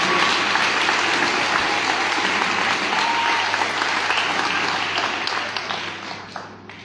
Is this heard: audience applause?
yes